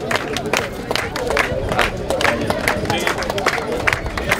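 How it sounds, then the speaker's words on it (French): An audience at an anniversary celebration claps and cheers in uneven bursts, with sharp individual claps standing out over a busy crowd murmur and voices talking throughout. "c'est bien d'applaudir"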